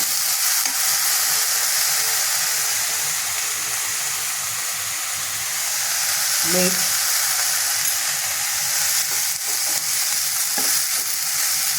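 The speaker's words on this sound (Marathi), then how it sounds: "मेथी चांगली परतून घेऊ." Fenugreek leaves sautéing in a pan give a steady, close frying sizzle and hiss with a brief stir or clatter partway through, while a voice speaks a word faintly underneath.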